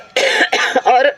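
A close, loud bout of coughing, three harsh bursts in quick succession, with no talk.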